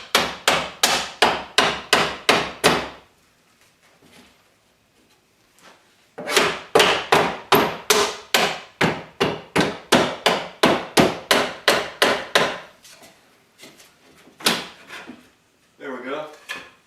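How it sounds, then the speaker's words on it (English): Wood trim is hammered and pried loose during a subfloor tear-out in a mobile home: a close, steady series of sharp, loud knocking blows in two long runs, with a pause between and a few scraping sounds after. "kind of careful about removing some of this wood here. So it's trim and we'll reuse."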